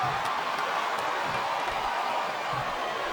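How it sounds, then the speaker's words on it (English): Arena crowd noise at a WWE SmackDown vs. Raw 2007 wrestling match between Ken Kennedy and Chris Benoit, a steady broad roar of cheering spectators that fills the whole moment without a break or any talk over it. "And the crowd is coming alive tonight with it."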